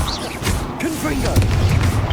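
Confringo blasting spell explosions in Hogwarts Legacy combat, a dense run of booming bursts and crashes over a thick low rumble, loud and continuous with brief voice-like calls mixed into the battle noise.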